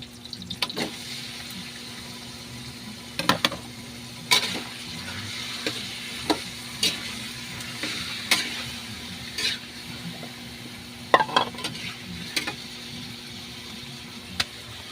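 Chicken for tinolang manok, cooked with onions, sizzles softly in a pan under a continuous frying hiss, with sharp clacks of a stirring utensil hitting the pan every second or two, nearby and without talking.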